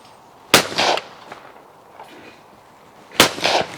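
Two loud, close blasts from a Beretta 682 Gold E over-and-under shotgun on a clay shooting range, each a sharp crack with a short rolling tail, spaced a few seconds apart.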